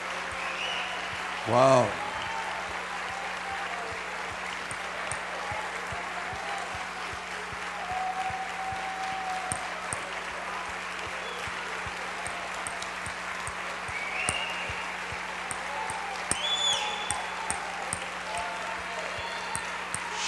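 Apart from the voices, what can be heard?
church congregation applauding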